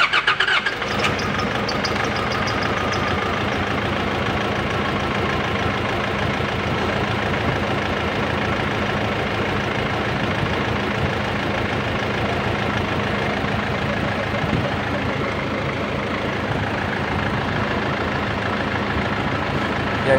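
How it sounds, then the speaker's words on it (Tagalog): Nissan Navara D40 pickup engine idling roughly and shaking out of balance, a loud, steady, close mechanical rumble that runs unbroken and alone. "makikita nyo na malakas ang vibrate ng makina, no? Parang hindi siya balanse."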